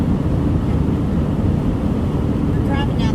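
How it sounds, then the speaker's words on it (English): Motorhome driving down a highway on a windy day, a steady loud low rumble of road and wind noise buffeting the cabin throughout, with faint tones near the end. "We're driving down the highway and it is windy for a motorhome"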